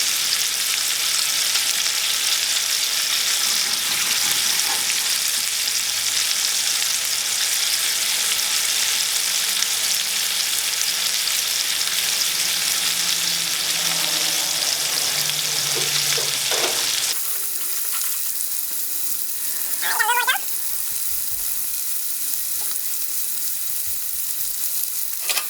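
A chuck roast sears in a hot pan with a loud, steady sizzle that runs close for most of the time, then drops to a quieter, fainter frying hiss with a few clinks partway through.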